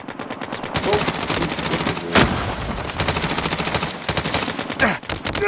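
Rapid automatic MP5 submachine gun fire in a first-person shooter game, several loud close bursts of fast rattling shots separated by short pauses, with a voice speaking briefly.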